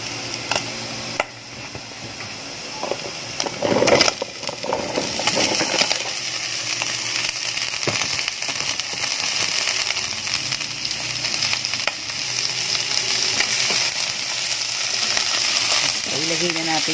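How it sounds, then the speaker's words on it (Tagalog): String beans sizzle steadily in a hot pan while being sautéed for adobong sitaw with oyster sauce, a continuous frying hiss with a few sharp clinks and stirring scrapes early on. "Mag-gisa tayo ng sitaw."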